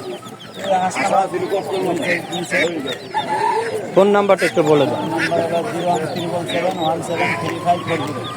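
Chickens and ducks cluck and squawk at a busy poultry market, the calls mixed under steady close conversation between buyer and seller.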